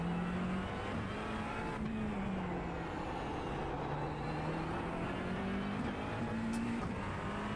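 McLaren GT3 race car in a racing video game, its engine droning steadily at close range with wavering pitch as revs rise and fall, continuous throughout without talk.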